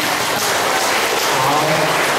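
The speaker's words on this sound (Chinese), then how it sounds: "给自己一个掌声。" Loud, dense applause from an audience of students at a school performance, a continuous roar of many hands clapping at full strength throughout.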